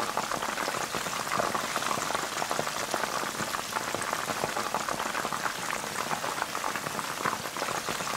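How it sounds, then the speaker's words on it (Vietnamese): Chicken wings frying in a generous amount of hot oil, a dense continuous sizzle and crackle of bubbling fat, steady and close, with no voices. "Sử dụng lượng dầu hơi nhiều, nhưng chiên như vậy mới ngon nè các bạn"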